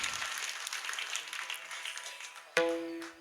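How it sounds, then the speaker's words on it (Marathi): An audience claps together at a devotional kirtan gathering. The applause is a dense wash of hands lasting about two and a half seconds, then an instrument's sustained tone cuts in loudly. "एकदा त्यांच्यासाठी जोरदार टाळी वाजवा."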